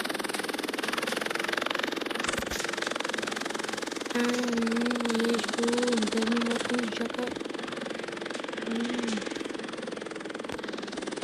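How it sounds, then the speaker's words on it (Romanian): A military-style helicopter in a video game hums with a steady, droning engine and rotor noise throughout, while someone talks over it in a close voice. "Deja pilotați un elicopter."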